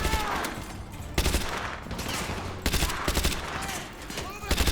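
Bursts of automatic gunfire and single shots in Call of Duty Modern Warfare 2 come in clustered volleys with short gaps, loud and close. A voice speaks over parts of the firing.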